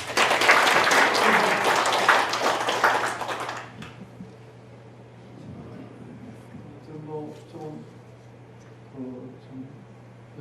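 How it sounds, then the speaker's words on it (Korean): Audience applause at a clan association's annual general meeting, a loud crowd clapping for about four seconds, then dying away into quiet room sounds with a steady hum and faint voices. "제가 박수 한번 부탁드리겠습니다"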